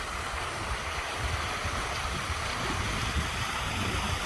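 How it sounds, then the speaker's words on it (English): A water fountain on the Loutraki boardwalk in Greece splashes in a steady, broad, continuous rush, close and fairly loud, with no voices over it. "Fountain."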